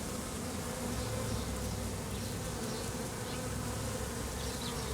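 A honeybee swarm fans and buzzes at a hive entrance, a dense, continuous drone of many wings close by with no voices.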